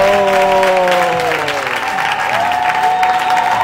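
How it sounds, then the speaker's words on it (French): A church congregation at a prayer gathering bursts into loud sustained applause and cheering, dense clapping filling the room with voices rising and sliding beneath it. "Est-ce que tu peux acclamer pour l'Éternel?"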